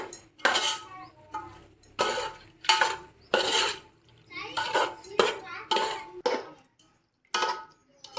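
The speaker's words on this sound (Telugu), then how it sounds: "పెరుగు కూడా బాగా అంతా మిక్స్ చేద్దామండి" A metal spoon stirs thick yogurt into mutton in a pot for Rayalaseema-style chitti mutyala mutton pulao, giving repeated clanking, scraping strokes against the vessel in uneven bursts, with a voice briefly in the background.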